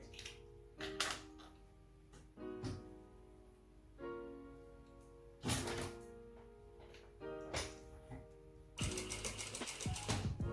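A sewing machine stitches across a pocket bag for an inseam pocket in several short, close bursts, separated by quiet pauses and mechanical clicks, ending in a faster rattling run.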